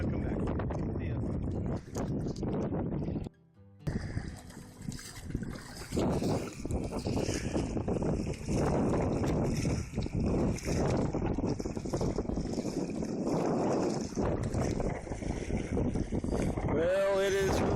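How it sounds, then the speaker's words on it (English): Strong wind buffets the microphone on a sailing kayak out on the water, a loud, continuous roar and rumble with gusty surges and splashy texture, nearly filling the whole stretch. "Well, it is really blowing today."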